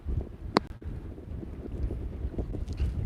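Strong wind buffets the microphone with steady low rumbling gusts, broken by one sharp knock early on; no voices.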